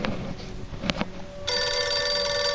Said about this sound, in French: Ah, ça sonne. Qui a ramené son téléphone?